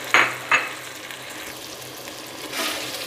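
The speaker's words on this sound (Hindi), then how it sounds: "अभी हम इसमें चिकन भी शामिल कर देंगे, साथ साथ इसे भूनते रहेंगे, चिकन भी भून जाएगा।" Chicken frying with cabbage and spices in a pan, with two short sharp stirring scrapes near the start and a soft sizzle continuing underneath, fairly quiet and close.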